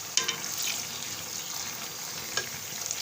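Meat with onions and garlic-ginger paste frying in a pot for a pulao, a steady close sizzle with a few louder bursts as the mixture is stirred, no talking.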